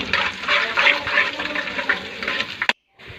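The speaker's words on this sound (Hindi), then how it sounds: "अब इसमें 5 गिलास हम पानी शामिल कर देंगे।" Water is poured into a cooking pot of fried onions, cumin and black cardamom for brown lentils and degi rice. A loud, steady rushing gush runs for about two and a half seconds, then stops abruptly.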